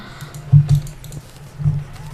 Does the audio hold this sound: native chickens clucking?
no